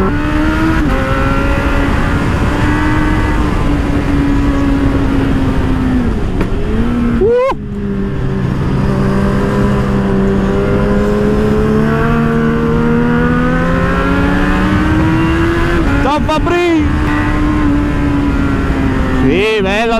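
A Kawasaki Z800 motorcycle engine drones steadily at close range while riding, its pitch shifting up and down with throttle changes and rising sharply in brief revs near the middle and end.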